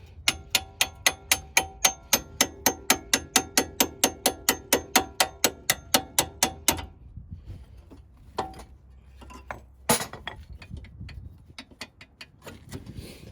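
Repeated hammer blows drive a bolt out during a Honda Civic coilover installation, a fast, even run of about two dozen sharp metallic strikes up close, then scattered clanks and handling noise.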